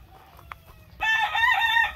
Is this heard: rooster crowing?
yes